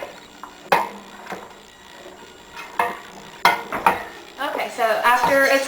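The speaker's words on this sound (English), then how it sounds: "be sure to keep stirring it" A spoon scrapes and knocks in a pot of boiling no-bake cookie mixture, irregular rubbing strokes and clunks close by, growing busier toward the end, with a person talking over it.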